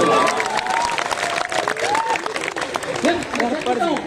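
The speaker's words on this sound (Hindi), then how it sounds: "ताली वाली बजाओ एक बार जोर" Applause and cheering from an audience at a Hindi poetry recital in an ashram in Shahjahanpur fill the space, mixed with loud voices talking over the clapping throughout.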